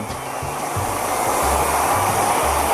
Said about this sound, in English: just kind of use the blow dryer to soothe that stinging that the alcohol is going to bring